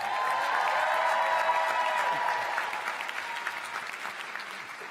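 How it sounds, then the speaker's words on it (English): A graduation ceremony audience breaks into sustained applause, a dense, steady wash of clapping across a large room that gradually thins and softens toward the end. "They deserve another round of applause."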